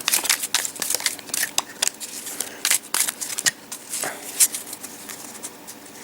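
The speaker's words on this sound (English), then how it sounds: "So nice cards to shuffle." A deck of fresh board-game cards, slightly bent from the box, is shuffled close up, giving rapid crisp riffling and flicking bursts with quick crackly snaps, no voices over it.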